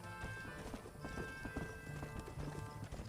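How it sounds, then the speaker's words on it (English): Rapid clip-clop of horse hooves galloping steadily in Red Dead Redemption, close and prominent, with a brief whinny and a busy game soundscape underneath. "My horse is here."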